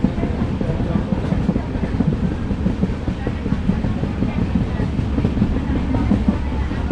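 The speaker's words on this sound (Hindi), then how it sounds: "हमारी ट्रेन यहाँ स्लो हो रही है।" Inside the 14505 Nangal Dam Express as it slows, a continuous heavy low rumble of wheels and carriage fills the cabin, steady and close with faint rhythmic rattling.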